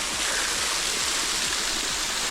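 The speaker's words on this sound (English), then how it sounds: "I'm coming up the waterfall." Scout Falls on Mt Timpanogos pours as a steady, full-bodied waterfall roar, dense broadband rushing close by with no pauses across the whole stretch.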